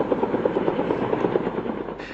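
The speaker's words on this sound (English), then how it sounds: "Air tankers and helicopters are pounding the Ferguson fire from the air with fire retardant and water drops" A helicopter fighting the Ferguson wildfire makes a steady rhythmic rotor chop at moderate distance, with no talking.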